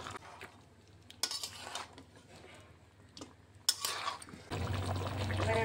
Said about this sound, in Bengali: এবার সব কিছুকে ভালো করে মিশিয়ে নিতে হবে।